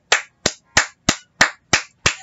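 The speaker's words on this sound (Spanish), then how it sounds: "Eso merece un aplauso." Seven sharp, evenly spaced hand claps, close and crisp, each a single distinct slap with a short decay and silence between, with no voices.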